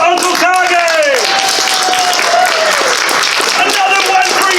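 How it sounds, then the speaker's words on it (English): A large crowd at a furry convention panel breaks into loud, dense, continuous applause, with whoops and voices calling out over the clapping throughout. "let's give a huge round of applause to Uncle Kage!"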